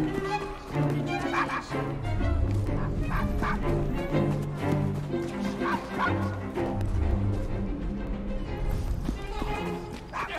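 A dog barks repeatedly in Assassin's Creed Syndicate, set in Victorian London, with yips and whimpers heard under continuous game music and character dialogue.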